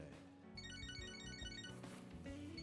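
A phone ringtone from the video game Catherine: Full Body plays a bright repeating melodic pattern of short electronic tones, clear and fairly close, with no talking over it.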